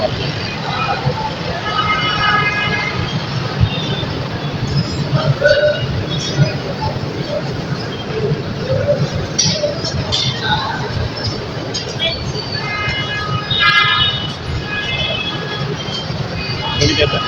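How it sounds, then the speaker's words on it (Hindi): A train approaches a railway station, a continuous low rumble and clatter that stays fairly loud throughout, with people talking over it on the platform. "ट्रेन आ रही है। इस तरफ से आएगी।"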